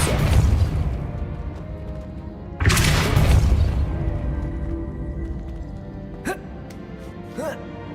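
Depulso spell casts in the Hogwarts Legacy video game: two loud booming bursts with a whooshing rush, followed by quieter rumble and a couple of brief chirping effects near the end.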